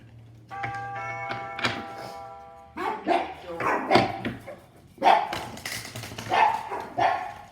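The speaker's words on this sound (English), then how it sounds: "So once again, excuse the dogs." Dogs bark repeatedly in loud bursts, some close and sharp, with a person talking over them and a steady hum in the background.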